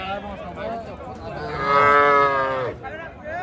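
A desi calf at a busy cattle market gives a loud, drawn-out moo lasting about a second, with other calls and crowd noise from the market around it.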